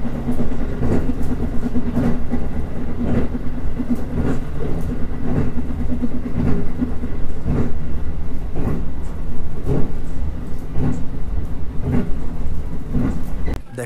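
A passenger train on the Howrah to Agra route rolls steadily along the rails, with a continuous low rumble and regular clickety-clack beats from the wheels passing rail joints throughout.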